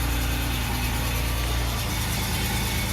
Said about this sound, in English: Let it idle for a second.